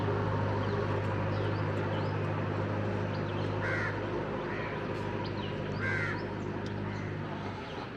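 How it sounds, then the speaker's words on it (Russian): Several crows caw repeatedly at a moderate distance over a steady low hum of morning city ambience in Mumbai, with harsh calls scattered through the scene. "Обязательно вороны должны каркать."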